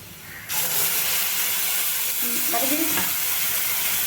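A steady loud sizzle of ground tomato frying in a pan, with a sharp hiss rising as it hits the heat and occasional stirring scrapes.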